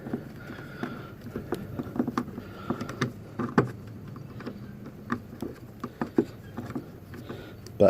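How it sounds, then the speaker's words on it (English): Scattered drops patter irregularly on a nearby surface, light soft taps spread unevenly over a low background hum. "And now it's starting to rain on me here."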